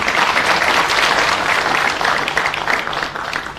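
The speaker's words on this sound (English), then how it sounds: "Let's have another round of applause for the Russian Ambassador." Audience at an ANC dialogue event on the Russia and Ukraine conflict applauding the Russian Ambassador, a dense, steady round of many hands clapping that tapers slightly toward the end.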